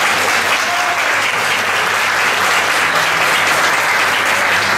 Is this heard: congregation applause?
yes